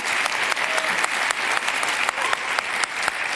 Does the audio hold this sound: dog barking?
no